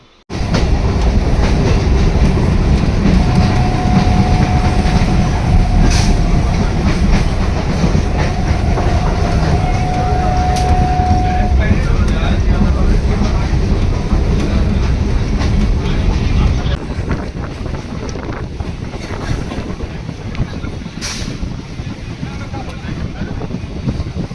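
Interior of a moving train running from Kalyani Simanta to Kanchrapara, with a constant loud rumble, rattling carriage noise and wheel clatter. A horn-like tone sounds briefly, and the noise eases slightly toward the end.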